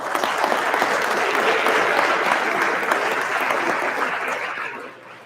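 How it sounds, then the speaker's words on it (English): An audience at a male leadership day event bursts into loud, dense clapping that holds steady and then fades out over the final second. "Give it up, clap it up"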